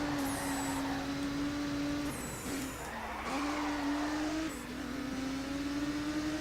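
A race car in the video game Grid 2 is held at full throttle, its engine note climbing and snapping through gear changes in repeated rising whines over a steady game-audio bed, with no talking.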